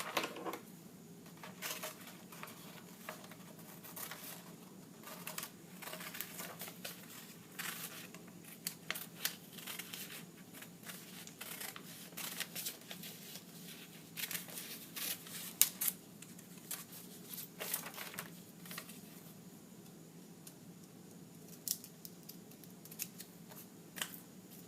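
Scissors snip through paper while cutting out hand-drawn bush shapes for a parade craft, giving a steady run of small, close, crisp cuts over a quiet room with no talking.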